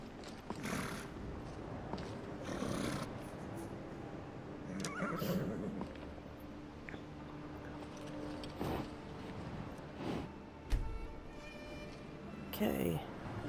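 A horse in the VR video game Skyrim VR neighs and whinnies several times over a steady game background with hoof clip-clop, while a person talks over it.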